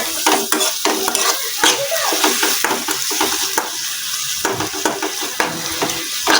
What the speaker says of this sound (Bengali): মশলাগুলোর সঙ্গে ভালো করে মিশিয়ে নিচ্ছি।